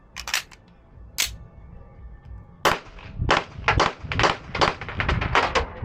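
Apollo 11 Compact pistol firing 115 grain hand-loaded hollow point rounds, a few spaced shots at first, then a fast string of sharp, loud cracks in close succession.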